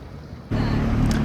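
A McLaren 720S sports car drives along the Pacific Coast Highway at sunset, its engine and road rumble rising suddenly to a loud, steady drone with wind noise heard from inside the car.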